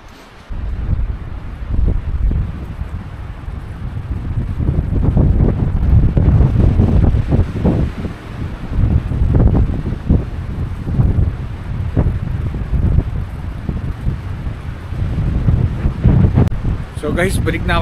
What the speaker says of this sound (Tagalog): Kaso walang shield sa hangin eh.